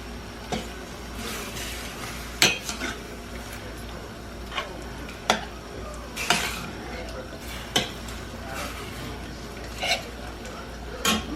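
Fresh garlic sizzles gently in a pan while it is cooked for pepper steak, and a utensil scrapes and clicks against the pan in sharp, irregular strokes above a soft, steady frying hiss.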